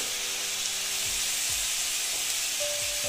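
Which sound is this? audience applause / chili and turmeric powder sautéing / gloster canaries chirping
chili and turmeric powder sautéing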